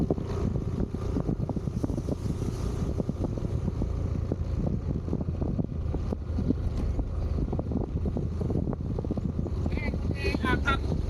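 Strong typhoon wind roars and buffets steadily throughout in a coastal area of Dipaculao, Aurora, a dense low rumble with gusts, and a few faint voices surface briefly near the end.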